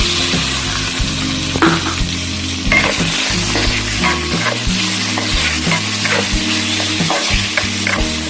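Pork and onion sizzle and fry in a pan for a Filipino home-style coconut vegetable dish with shrimp. The frying is loud and continuous throughout, with a spatula stirring and scraping now and then.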